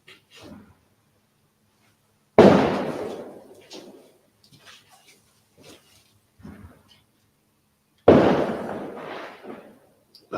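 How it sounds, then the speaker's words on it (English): Fireworks going off around a Halloween night outdoors, heard as two loud sharp bursts with crackling decay, separated by scattered faint distant pops and thuds. "No doubt you can hear all the fireworks that are going off."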